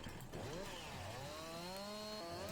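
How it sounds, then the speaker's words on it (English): A chainsaw cutting a fallen tree at an abandoned race track holds a steady, revving engine whine with its pitch rising and falling as the blade bites, loud and near for the whole stretch. "Let's grab the chainsaw and see if we could kind of cut closer here."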